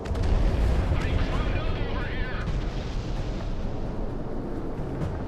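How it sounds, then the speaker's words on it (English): Heavy missile rumble and roaring blast from a Monarch missile in the air-combat video game Project Wingman, loud and sustained with a dense low-end boom that stays steady across the whole stretch. "Monarch missile on the way"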